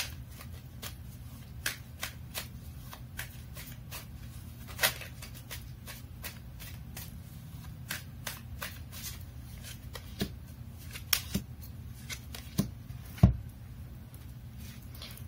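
Tarot cards are shuffled and drawn by hand close up, a long run of soft riffling and crisp flicks with sharper snaps and taps scattered throughout.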